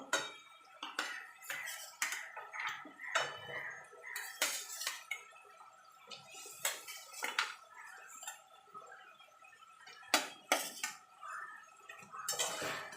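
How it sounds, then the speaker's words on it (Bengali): Potatoes stirred and sautéed with spices in a pot for a Bengali fish curry with brinjal and lentil dumplings, giving repeated clinks and scrapes of a spoon against metal at close range, with no talking. "আলুটা দিয়ে মশলার সঙ্গে ভালো করে কষিয়ে নেব"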